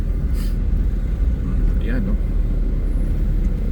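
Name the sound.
road traffic on a Baguio road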